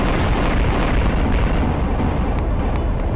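A loud, dense explosion in Garry's Mod roars continuously, a heavy booming rumble that fills the whole short clip without any talking.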